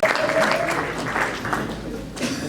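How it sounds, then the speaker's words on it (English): An audience at a county candidates' night forum claps for two judges, a dense burst of applause that thins out toward the end while a voice carries on over it. "Round of applause for these two judges joining us tonight."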